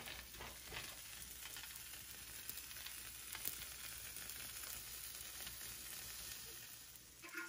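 Quesabirria tacos fry crisp in a pan with a steady, close sizzle and crackle that fills the whole stretch at an even, moderate level, with no talking.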